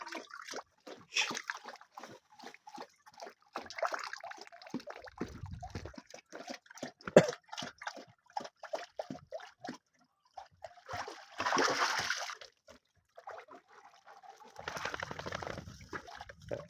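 A dog leaps into water and splashes about during a countryside bath, with irregular splashes and dripping trickles close by, a louder burst near the end, and no talking.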